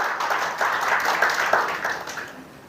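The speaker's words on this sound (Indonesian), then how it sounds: "Tepuk tangan bagi Yesus." A church congregation claps for Jesus during a sermon, producing a full, continuous round of applause that swells slightly and then tapers off.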